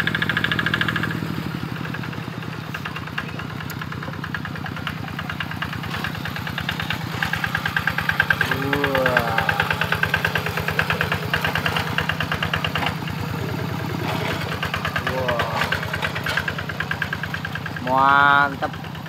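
A hand tractor plough engine runs hard at full throttle, a loud, steady chugging drone that persists throughout while people talk over it and a brief shout rises near the end.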